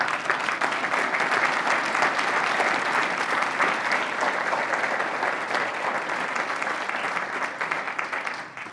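A large audience at a general assembly applauds its three speakers, a dense, loud wall of clapping that holds steady for several seconds and then tapers slightly toward the end.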